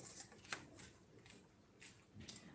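Tarot cards shuffled by hand in a quiet room, soft faint riffling bursts in an uneven rhythm, a few brief crisp flicks spaced apart with no talk.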